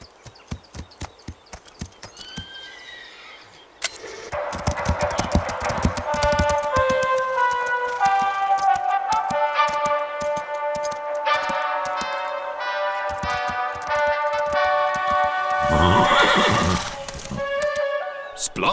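Horses on a farm whinny and neigh repeatedly while their hooves clop in a steady rhythm, with music playing throughout as the animals are trained to get used to it; close and loud, no talking.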